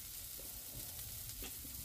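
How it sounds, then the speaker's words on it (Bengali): Ground spices with turmeric fry in a pan for a Bengali banana-flower curry, giving a steady, close sizzle with faint scraping underneath and no voices. "এখন এটাকে আমি ভালো করে ভেজে নেব।"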